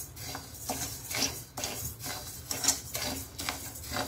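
Parboiled rice being dry-roasted in a hot pan, with a steady run of soft scraping, stirring and light rattling strokes up close.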